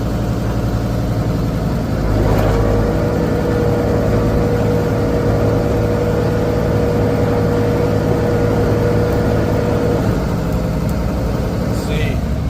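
A tractor engine runs steadily up close, loud and continuous with a deep mechanical drone and a slight rise in revs partway through, while the back left tire sits locked up.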